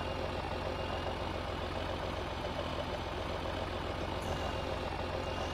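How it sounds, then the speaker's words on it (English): A Case tractor engine runs steadily throughout, a low continuous rumble at an even level with no break, nearby and alone without any talk. "He's got a fancy newer tractor"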